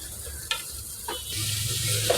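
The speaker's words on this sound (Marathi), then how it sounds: "थोडे टोमॅटो टाकले. त्यानंतर भाजी टाकते." Onion, tomato and vegetables frying in oil in a pan, a steady close sizzle with a few brief stirring scrapes and clinks, no talk.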